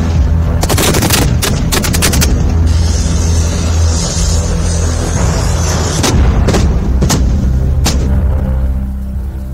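Indian Army artillery and gunfire during the Desert Strike exercise at the Pokhran field firing range in Jaisalmer, with loud rapid bursts and heavy booms over a constant low rumble.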